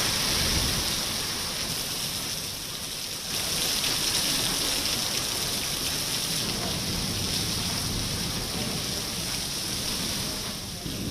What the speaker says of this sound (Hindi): मौसम ने मिजाज बदला और झमाझम बारिश शुरू हो गई